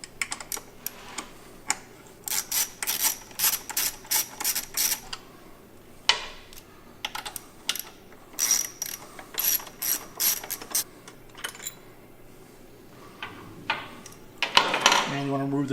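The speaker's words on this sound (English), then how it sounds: "We're going to remove these top two bolts with your 6mm ratchet." A 6mm hand ratchet loosening bolts on a motorcycle side guard bracket: bursts of rapid close clicking with short pauses between strokes, a few metallic taps and a clunk near the end.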